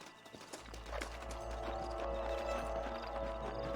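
Horse hooves clip-clop in the video game Red Dead Redemption as riders dismount near a canyon, a close rhythmic clatter over a low steady rumble, with a brief whinny-like tone early on.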